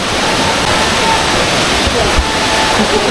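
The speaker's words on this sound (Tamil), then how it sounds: "ஃபால்ஸ் பக்கத்தில் வந்துட்டோம் சவுண்டு உங்களுக்கு கேட்குன்னு நினைக்கிறேன்" Kollimalai Aagaya Gangai waterfall roars as a steady, loud broadband rush of falling water, close by and continuous with no breaks.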